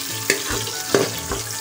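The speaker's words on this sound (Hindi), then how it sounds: "अब हम इसमें डालेंगे ग्रीन वाला लहसुन, और इसको हल्का सा भून लेंगे" Green garlic frying lightly in a pan, a steady close sizzle with a few sharp scraping stirs of a spoon against the pan.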